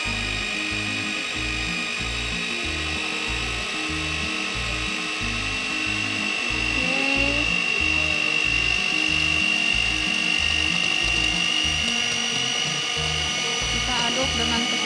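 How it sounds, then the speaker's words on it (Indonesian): A high-speed laboratory stirrer mixes oil and water phases into an emulsion, making a steady whine over a rapid, rhythmic low pulsing that continues throughout. Voices can be heard faintly underneath. "Kita aduk dengan kecepatan tinggi."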